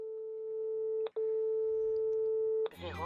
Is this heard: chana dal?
no